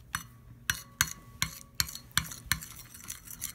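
Spoon scraping and clinking against a small bowl while sriracha and condensed milk are mixed into a dipping sauce, a steady series of about eight sharp, close taps at a quick, regular rhythm with no talking.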